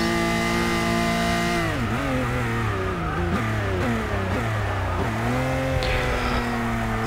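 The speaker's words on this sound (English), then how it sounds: "Now let's see what the Ferrari can do." Ferrari hypercar engine in Forza Motorsport 6, revving loud and steady through repeated upshifts, each gear change dipping the pitch before it climbs again, with no talk.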